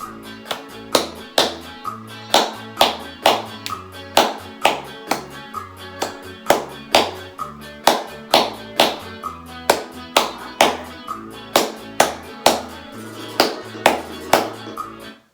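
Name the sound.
clapping a bachata beat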